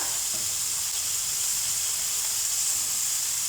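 Marinated prawns grill in a hot pan with a steady, even hiss and sizzle, constant and fairly close, with no voices over it.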